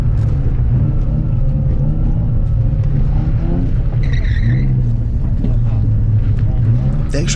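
Game car engine from the drifting game Driftlimits, revving steadily and loud through a drift with a quick throttle blip, while a person talks over it throughout.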